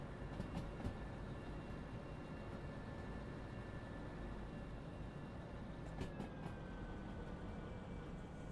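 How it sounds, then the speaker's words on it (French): An American locomotive in the train simulator game Derail Valley rumbles low and steady, with faint whining tones and occasional light clanks, quiet throughout. "ça fait très locomotive américaine, ça c'est pur même américain, je dirais"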